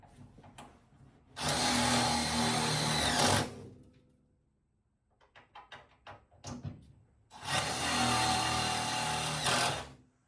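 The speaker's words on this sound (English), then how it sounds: "drilling out spot welds for that reason" A power drill bores out spot welds on a 1972 VW Super Beetle, two loud sustained whining runs of about two seconds each, with clinks of tools and metal handling between them.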